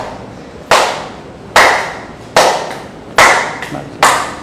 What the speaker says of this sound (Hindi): जैसे 40 बार ऐसे ताली मारना